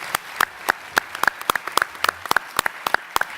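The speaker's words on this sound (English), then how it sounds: "let's give a round of applause to our panelists" A small audience at a panel discussion on the Bering Strait claps for the panelists. Sparse, distinct individual claps sound close and irregular, a few hands only, with no talk.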